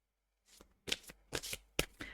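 Tarot cards are handled and drawn from the deck in a few quick, close papery riffles and flicks, each one a short crisp burst with brief silences between.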